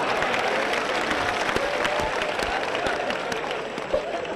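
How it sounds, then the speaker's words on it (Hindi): An audience at a Hindi poetry gathering in Varanasi claps steadily throughout, producing dense, sustained applause of many hands with a few voices mixed in. "भैया के सम्मान में बजा दीजिए तालियां।"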